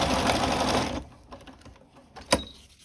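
A sewing machine stitching back and forth across the end of an invisible zipper, running steadily and fairly close for about a second, then stopping, followed by faint handling clicks and one sharp knock.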